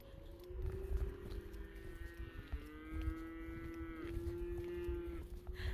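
Cows in open countryside moo in long, drawn-out calls, several overlapping one after another, sounding moderately near over faint outdoor background noise.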